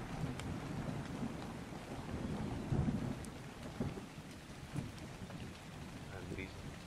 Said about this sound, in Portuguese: Tá chovendo aqui também.